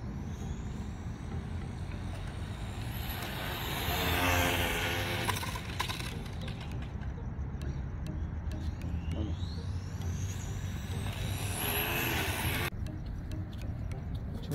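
A Team Associated RC18R RC car on a speed run makes two rising high-pitched motor whines that climb and fade as it passes, faint against steady background noise.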